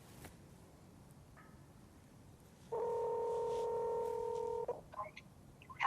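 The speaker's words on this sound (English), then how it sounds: "Next, I'm going to show you how to make a phone call." Phone call dialing tone from a Humane AI Pin, a steady two-tone ring lasting about two seconds that stands out over a faint background hiss, followed by brief clicks.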